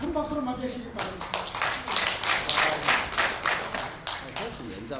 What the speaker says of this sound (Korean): 여기까지 말씀 듣도록 큰 박수로 맞으시기 바랍니다.